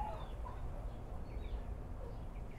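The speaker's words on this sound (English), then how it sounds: "my baby chicks are growing up and I let them outside every day" Young backyard chickens cluck softly and intermittently in a garden, faint and scattered over a steady outdoor rumble, with no talking.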